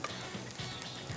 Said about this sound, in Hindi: यहाँ पर थोड़े सा अनियंस ले रहा हूँ, ताकि इसको भी हम थोड़ा कैरेमलाइज कर दें